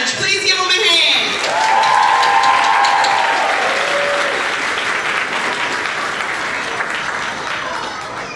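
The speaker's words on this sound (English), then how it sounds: "Please give them a hand." A crowd applauds kindergarten graduates at an elementary school graduation ceremony, with steady, loud clapping that fills the room and slowly tapers, along with cheering and brief whistles near the start.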